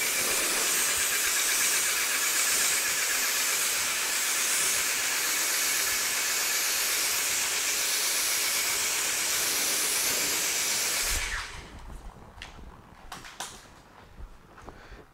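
Steady loud hissing water spray rinsing a car, continuous and close for most of the stretch, then cutting off abruptly and leaving scattered drips and small knocks.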